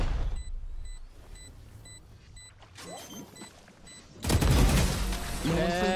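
A gunshot in the video game Valorant follows a stretch of quiet electronic beeps, then a loud, abrupt blast near the end with a rumbling tail; a voice is heard only briefly.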